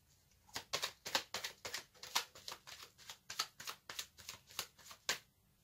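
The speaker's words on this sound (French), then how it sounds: "Je vais tirer une carte supplémentaire pour avoir un message en plus." Tarot cards being shuffled and drawn from a deck: a quiet, close series of quick papery flicks and riffles, about a dozen in an uneven rhythm, with no talk.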